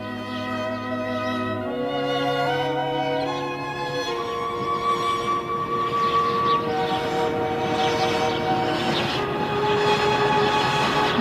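A train arrives in a 1981 television drama, its sustained, wavering tonal horn-like wail shifting pitch in steps over a continuous rumbling rail noise that gradually grows louder, with no talk.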